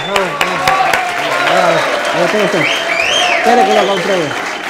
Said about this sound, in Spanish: A ver, un aplauso.